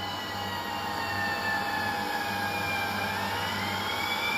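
Fire engine 31 arrives down a street with a steady, continuous heavy engine rumble and a faint whining tone, holding at an even, fairly loud level throughout with no voices.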